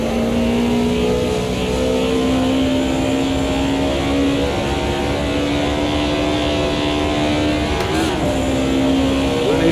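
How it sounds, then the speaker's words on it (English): E30 BMW M3 engine drifting in the Automobilista 2 racing game on a wet track, a loud sustained engine drone with steady rising pitch, holding high revs throughout with a brief shift-like dip near the end. "Leave you with the sultry sounds of the E30 BMW M3. A bit of drifting to finish off."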